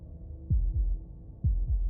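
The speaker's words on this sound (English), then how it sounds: "That was the sound of a heartbeat," Heartbeat sound effect in the video game Slay the Princess: two deep, thudding double beats, each a low lub-dub pair, spaced about a second apart over a quiet hum.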